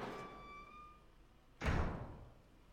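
A door in the Resident Evil mansion swings open with one heavy, close thud that rings and fades out, after a quiet stretch of faint, eerie tonal ambience.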